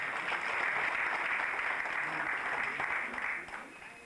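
Audience applause fills a hall at an 80th-anniversary memorial academic conference: a dense, steady clatter of many hands that holds for about three seconds, then thins and fades toward the end.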